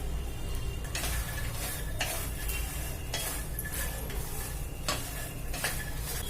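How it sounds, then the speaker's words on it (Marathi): Makhana (fox nuts) roast in a little oil over medium heat in a heavy-bottomed pan or kadhai, with a low steady sizzle and regular stirring scrapes and taps about once a second. "आता एवढ्याशा तेलामध्ये मीडियम गॅसवरती हे मखाने छान कुडकुडीत भाजायचे आहेत"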